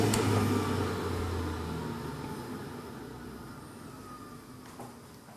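Watermelon juicer motor spinning down after being switched off, a steady whirring hum that gradually fades and slows over several seconds with no voices.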